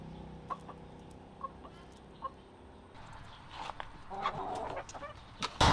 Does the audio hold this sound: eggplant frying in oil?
no